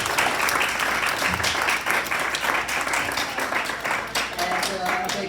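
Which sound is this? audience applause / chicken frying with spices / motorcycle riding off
audience applause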